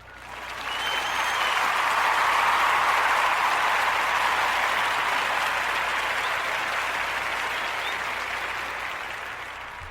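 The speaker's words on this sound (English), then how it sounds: "I'm going to give them a round of applause" A crowd breaks into sustained applause, a dense wash of clapping that rises quickly, holds steady and loud for several seconds, then slowly tapers, with no speech over it.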